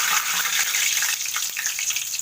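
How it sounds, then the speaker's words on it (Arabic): Floured chicken wings drop into deep, very hot oil, giving a dense, bubbling hiss of frying that stays loud and steady throughout without any voices. "هناخد الفراخ كده، يا دوبك هننفضها شويه من الدقيق ونحط في قلب الزيت"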